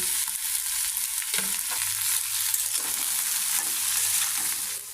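Onion, green chili, turmeric powder and a little salt sizzle in a hot pan while okra is fried. A continuous close hiss is broken by occasional stirring scrapes, and no one speaks.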